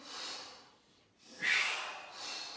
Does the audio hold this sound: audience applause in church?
no